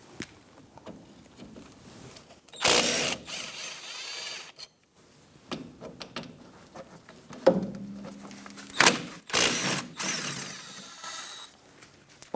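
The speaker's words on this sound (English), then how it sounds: "We're going to use a 14mm socket and take out these caliper slide bolts." A socket ratchet with a 14mm socket works on the caliper slide bolts of a 2010-2013 Kia Soul, giving sharp clicking bursts separated by quieter pauses and small mechanical knocks.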